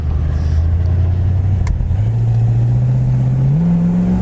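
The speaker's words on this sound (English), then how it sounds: "Kick down works, the passing gear works great, transmission shift's really nice." A 1967 Ford Mustang convertible engine revs loud and close, holding a steady drone before stepping up in pitch twice as the automatic transmission kicks down.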